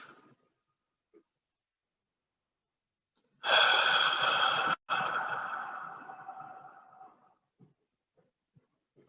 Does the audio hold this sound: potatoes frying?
no